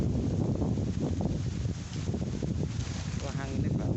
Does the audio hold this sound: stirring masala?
no